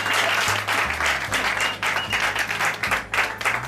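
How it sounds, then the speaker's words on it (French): A church congregation claps and applauds for the Lord in a lively, continuous burst of many hands. The clapping is loud and close, with faint voices mixed in. "If you love him, put your hands together for him."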